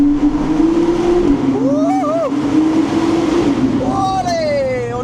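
A McLaren Artura accelerates, heard from inside the car as a steady engine drone whose pitch climbs in rising sweeps, with someone talking over it.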